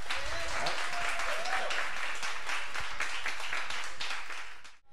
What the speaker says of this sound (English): Let's give Chris another round of applause.